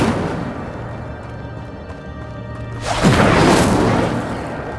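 Incendio, a fire spell in Hogwarts Legacy, ignites with a sudden loud whooshing roar of flame after a quieter stretch of ambient game sound, then rushes on for over a second before easing.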